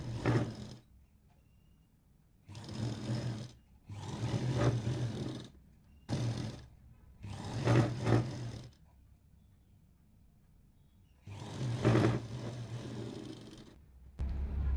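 A sewing machine hems the puff sleeves of a kurti, folding the edge about an inch, in several separate bursts of close mechanical whirring with short quiet pauses between runs.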